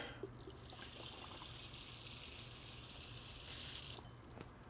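Water is poured into a potted Monstera plant, a faint continuous trickle that brightens into a louder splashy stream near the end before stopping, heard close with no speech.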